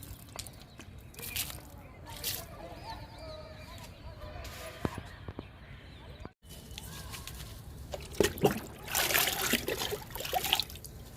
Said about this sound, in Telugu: అందుకని ఈరోజు మొక్కలన్నిటికీ ఈ లిక్విడ్ చల్లుతున్నాను